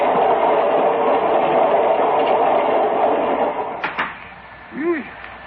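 A train sound effect in an old-time radio drama, a loud steady rolling rumble of a moving train that fades near the end, followed by a few brief clicks and a short tonal sound.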